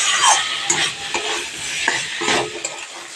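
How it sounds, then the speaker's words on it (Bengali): Fried potato pieces are stir-fried into a spice masala in a pan for a vegetarian chhanar dalna: a close, continuous sizzle overlaid with frequent spatula scrapes and soft knocks against the pan, with no talking. "আলুটা দিয়েও মশলার সঙ্গে ভালো করে একটু কষিয়ে নেব"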